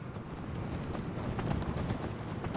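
Horse hooves clip-clop steadily on the ground in the Skyrim Special Edition video game, a quiet, continuous walking rhythm with no other sounds over it.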